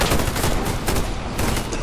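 Rapid, loud gunfire crackles in a steady stream for a couple of seconds, automatic weapons firing in the game Warface.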